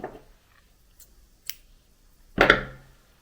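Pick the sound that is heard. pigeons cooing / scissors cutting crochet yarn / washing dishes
scissors cutting crochet yarn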